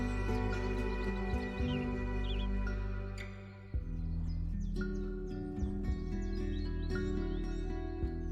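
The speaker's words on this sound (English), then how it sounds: "overlaid with the gentle sounds of birds chirping" Gentle bird chirps and tweets from the digital version of the Wingspan board game sound over calm sustained instrumental music, the calls scattered and soft through the layered chords.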